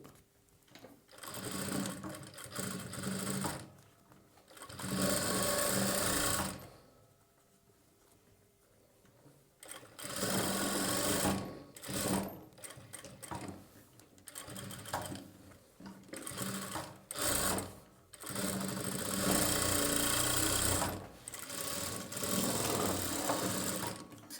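A sewing machine stitching a boat neck blouse runs in loud, steady bursts separated by short pauses, stopping and restarting several times close by.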